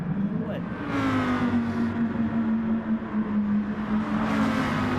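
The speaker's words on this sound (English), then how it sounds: "the car just goes round as he put the power on" A race car in the game GT Sport spinning round as power goes on at a corner exit, a steady loud engine drone with a sustained whining pitch that dips and rises, continuous for several seconds.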